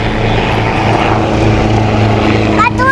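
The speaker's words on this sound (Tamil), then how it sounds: "ஹெலிகாப்டர் போகுது." A helicopter passes over an outdoor farm plot where young people are planting saplings, its loud steady rotor and engine drone filling the scene before a voice briefly cuts in at the end.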